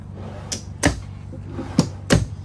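Kitchen drawers in a 2020 Tiffin Allegro Open Road RV slide and knock shut in four quick thumps and clatters, close by, over a low steady hum.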